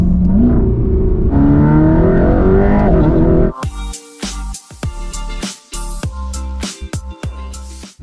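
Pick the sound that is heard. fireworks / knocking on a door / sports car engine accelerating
sports car engine accelerating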